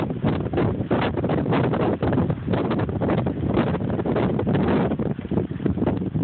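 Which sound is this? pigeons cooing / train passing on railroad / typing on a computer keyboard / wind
wind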